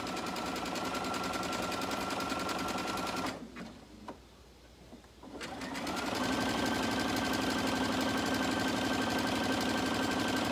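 A sewing machine stitches a second hem with a steady, close mechanical whir. It stops for about two seconds in the middle, then starts again and runs on evenly.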